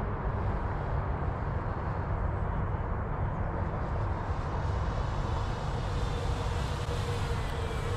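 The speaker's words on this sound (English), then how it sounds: "Flying about half throttle here." A Flightline Spitfire MK.IXc 1600mm RC model plane flying at about half throttle, a steady, continuous electric motor and propeller drone that holds level throughout with no talking.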